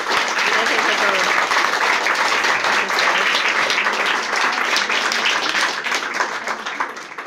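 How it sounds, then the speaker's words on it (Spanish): An audience at a talk applauds to welcome a speaker, a dense sustained burst of clapping that fills the room and tapers slightly toward the end. "Lo que sí vamos a darle es un aplauso para recibirla y agradecerla que esté un día más aquí con nosotros."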